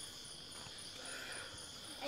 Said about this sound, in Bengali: এরকম ঝিঝি পোকার সাউন্ড পাবেন